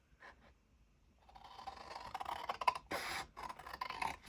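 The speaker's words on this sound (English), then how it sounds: "Oh, I love the sound of cutting paper." Scissors cut through craft paper for a card-making project, giving a close, crisp rasping snip that builds after a quiet start and continues in short bursts.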